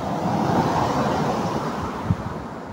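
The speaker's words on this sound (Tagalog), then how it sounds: "Malakas ang hangin sa labas mga idol." Strong wind blowing outdoors, a continuous broadband rush with gusty low rumble close to the microphone, steady and loud with no voices.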